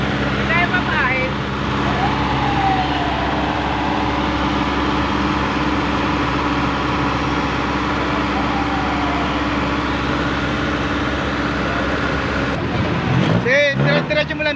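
A jeepney engine is held at a steady high idle around 2,000 RPM during a super oil demonstration, a loud continuous drone close by, with a brief burst of talk near the end.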